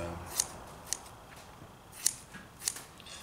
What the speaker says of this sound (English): a lot of snipping involved